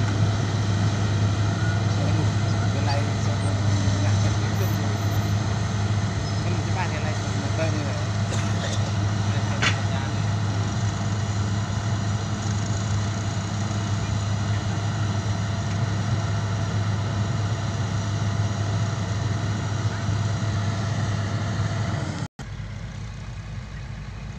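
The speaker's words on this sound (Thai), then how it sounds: "เพราะว่ารถไถดันมาลำบากมากครับ" Farm tractor engine pushing a load of logs, a steady loud low drone running continuously until it cuts out near the end.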